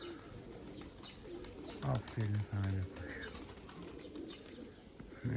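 Pigeons cooing in short low bursts as they come down to land during hot weather, with someone talking and praising them over the calls and some faint chirps around.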